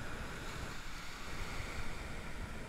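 Surf breaking over a sandbar at a fishing beach, a steady wash of rushing, hissing water with faint wind noise, continuous and moderately distant, no talking.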